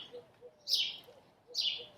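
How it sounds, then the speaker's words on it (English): Small birds nesting above a house's third story chirp in two bright bursts against a quiet background, with softer low coo-like notes between them. "we have a series of birds that nest just above us in our third story, and it's just fun to listen and watch them go through life"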